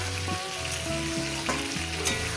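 Cauliflower and potatoes for a poppy seed dish fry in a pan with a constant loud sizzle, heard beneath a steady melodic music track.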